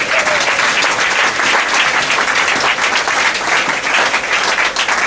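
A church congregation applauds continuously, a dense steady wash of clapping with a few faint voices mixed in.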